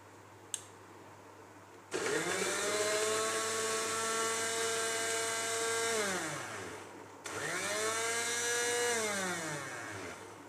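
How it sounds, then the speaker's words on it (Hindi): An electric chopper chops onions in two loud whirring bursts, the motor spinning up sharply, holding a high whine, then winding down, with a brief click before the first burst. "व्यूअर्स, अब हम अपनी प्याज जो है वो चॉपर में डालेंगे। इसको करेंगे पहले चॉप।"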